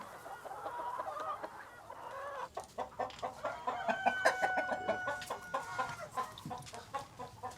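Chickens cluck in a steady, close chorus on a farm, with overlapping calls building into rapid repeated clucks and a rooster-like crow threading through the busy flock.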